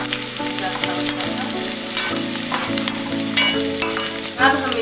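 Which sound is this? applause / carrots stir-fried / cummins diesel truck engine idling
carrots stir-fried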